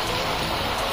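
Heavy rain pours down steadily at a roadside shop in Kerala, a dense continuous hiss of drops striking surfaces, loud and unbroken with no voices.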